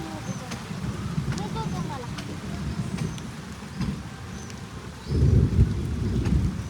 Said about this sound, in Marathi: फायनली पाऊस येतोय, पण जसा म्हणावा तसा जोरात येत नाही.